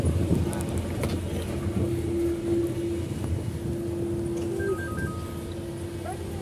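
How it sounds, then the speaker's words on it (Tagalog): A large engine runs steadily nearby, a continuous low rumble with a sustained tonal hum through it and brief higher whines layered on top. "Lalaki ng makina."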